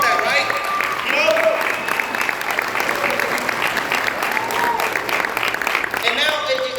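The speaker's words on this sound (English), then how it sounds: "Give yourself a round of applause for that" Audience at a 2023 retreat breaks into steady, full applause with light cheering, the clapping dense and continuous throughout while voices carry over it.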